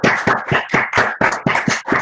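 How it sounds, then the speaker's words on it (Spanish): Steady applause from an audience at a university master's degree farewell ceremony, a rhythmic run of claps lasting about two seconds at moderate loudness with no voices on top. "vais a recibir vuestro correspondiente aplauso"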